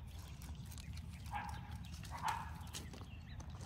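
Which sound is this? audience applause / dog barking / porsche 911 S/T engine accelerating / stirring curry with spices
dog barking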